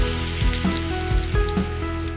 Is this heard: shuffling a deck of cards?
no